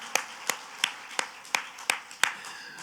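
A church congregation claps in a steady, even rhythm, about seven crisp claps spaced roughly a third of a second apart, heard at a moderate distance with no voices over them.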